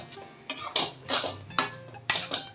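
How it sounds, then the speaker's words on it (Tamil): Jaggery, grated coconut and cardamom stirred together in a pan for a sweet filling, a utensil scraping and clinking against the pan in several short bursts, close and moderately loud with no talking. "வானலியை கழுவிட்டு வெல்லத்தையும் தேங்காயும் சேர்த்துட்டு ஏலக்காவும் சேர்த்துட்டு நல்லா கலந்து விட்டுருவோம்"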